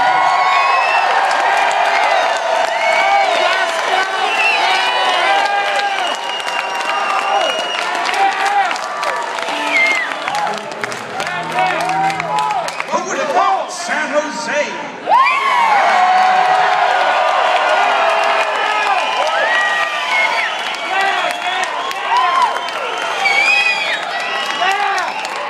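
Concert crowd cheering, whooping and applauding loudly and continuously, with a brief dip in the middle before the roar surges back, a dense wash of many voices and clapping hands.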